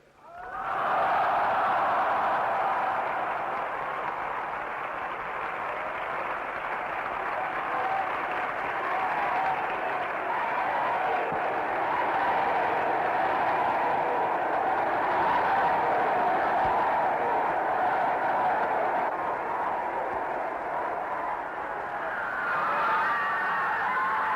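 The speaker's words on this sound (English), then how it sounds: "The applause seemed endless." A large outdoor crowd in front of the town hall in Berlin, 26 June 1963, applauds after Kennedy's speech, a dense, sustained roar of clapping that swells in quickly and holds steady for over twenty seconds with no talk.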